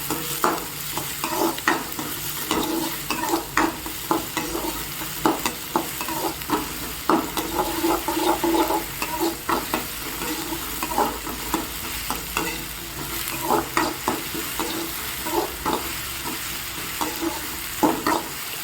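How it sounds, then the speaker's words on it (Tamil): Onions sautéing in a pan for street-style egg rice, with a steady sizzle broken by frequent close scraping stirs of a spoon in an irregular rhythm. "ஸோ இது நல்லா வதங்கட்டும்."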